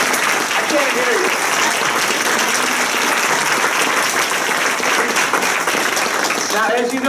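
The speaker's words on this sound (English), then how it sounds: "Can you give him a big round of applause?" A crowd at a live symposium applauds loudly and steadily throughout, with voices audible over the clapping.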